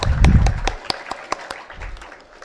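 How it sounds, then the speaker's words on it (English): An audience applauds a guest lecturer at a memorial lecture series. A low rumble opens into a handful of sharp, separate hand claps that thin out and fade over about two seconds. "So a big round of applause for sir once more."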